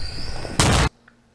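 Fireworks go off in a sudden loud burst of crackling blasts lasting about a third of a second, set in a chaotic crowd scene, and then give way to near silence.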